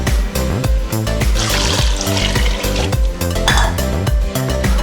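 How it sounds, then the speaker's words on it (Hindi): Water poured into a pot of frying black gram (kala chana) being cooked for a spiced curry, a steady loud sizzle and hiss with stirring and the clink of the pot running throughout. "अब हम इसके अंदर पानी ऐड कर देते हैं।"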